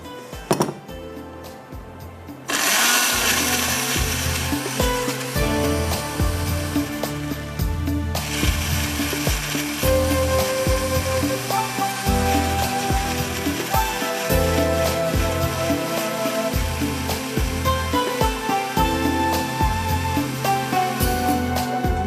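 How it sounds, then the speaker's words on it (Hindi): A loud motorized blender grinds masala paste with water, whirring continuously for about twenty seconds, with rhythmic clattering and knocking as contents churn, after a short quieter start. "अब इसको ब्लेंडर को चलाते हैं हम।"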